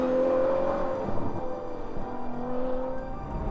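A 2021 Ferrari 812 GTS with a naturally aspirated V12 holds a steady, moderately loud engine note whose pitch shifts slightly over a few seconds, with no talking.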